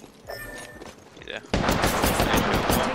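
Rapid automatic gunfire in the video game Apex Legends bursts in at about the midpoint after quieter game sounds, loud and dense, with voices chattering through the match.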